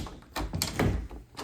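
A bifold closet door in a house shuts with a few soft, hollow thunks and knocks spread over a second and a half, fairly quiet and close.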